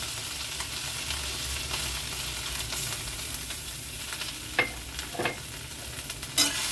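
A spoon stirs saucy potato and capsicum with tomato ketchup in a pan, giving a soft, steady sizzle with a few scraping strokes near the end.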